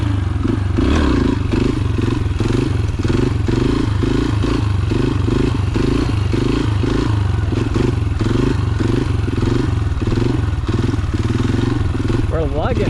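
A dirt bike engine lugs loudly and continuously at low revs, with a pulsing, labouring rhythm and some clatter throughout, recorded close on a ride.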